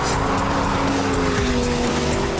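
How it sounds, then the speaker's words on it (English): A Lamborghini brakes into a corner during a race, giving a loud, continuous engine roar with a falling pitch and a faint tire squeal, close and unbroken for a couple of seconds. "On the entry to the corner, the car's superior braking kept me in front."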